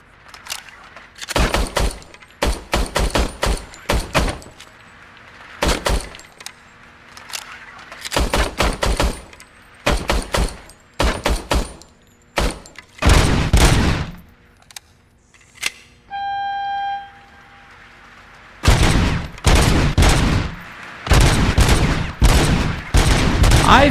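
Loud gunfire in the video game RoboCop: Rogue City comes in repeated rapid bursts and single shots separated by short pauses, with a brief electronic tone in the middle.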